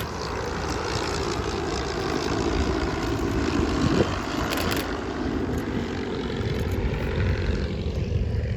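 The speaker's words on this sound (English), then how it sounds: "that's the engine that powers the first of the 3 DH60s in the formation, running through behind the DH51" A de Havilland DH60 Moth biplane with an ABC Cirrus engine flies past in formation behind a DH51, its propeller engine drone steady and fairly loud throughout, swelling slightly near the middle, with no talk over it.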